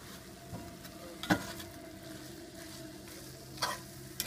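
Shaved steak and cheese sizzling on a burner-heated pan for a steak and cheese sandwich, a steady frying hiss broken by a few spatula scrapes and clicks, no talk.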